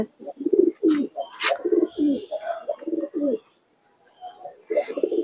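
A Giribaz pigeon coos in a series of close, soft, throaty rolling calls, pausing briefly near the end before resuming, with light chirps mixed in.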